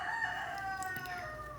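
A neighbour's rooster crows once from a distance, a faint drawn-out call with a low background murmur and no talking.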